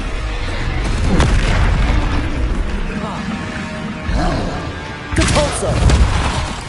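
Bombarda spell blasts in Hogwarts Legacy: heavy, booming explosions rolling one after another with a fresh loud burst near the end, over continuous combat clatter and in-game voices.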